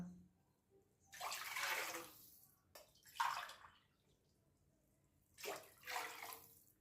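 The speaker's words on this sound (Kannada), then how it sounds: "ಅದೇ ಲೋಟದಲ್ಲಿ ಮೂರು ಲೋಟ ನೀರನ್ನು ಹಾಕ್ಕೋತಾ ಇದ್ದೀನಿ" Three glasses of water pour into a pan for payasam in three separate bursts with short pauses between, a splashing broadband rush close by, no voices.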